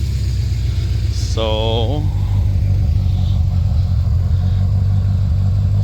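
Steady low rumble of a 1984 Corvette Z51 V8 idling through a newly installed exhaust, continuous and close throughout, with a brief voice and a short tonal chirp early on.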